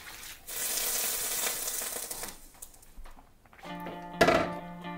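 Water is poured into a pan of spiced vegetable biryani, giving a close, sizzling hiss and rush for a couple of seconds, then a quiet stretch ending in a sharp clunk from the pan.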